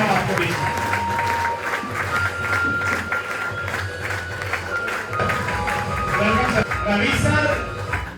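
An audience claps loudly to welcome Ravi Verma, a Nutricharge speaker and Comrades marathon runner, onto a stage. The steady applause runs throughout while people talk over it.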